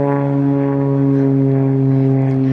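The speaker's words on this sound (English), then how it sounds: "this is a helicopter, airplane going by" Steady, loud propeller-like drone from a helicopter or airplane passing overhead outdoors, a sustained tonal hum that holds evenly for a few seconds with no talk.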